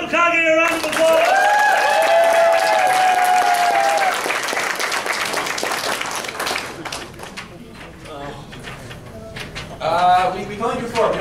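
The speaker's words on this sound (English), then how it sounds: "Guys, give Uncle Kage a round of applause!" A crowd at a charity comedy show applauds loudly and at length, with whoops and voices mixed in and tonal shouts rising above the clapping, which stays strong and swells again at the end.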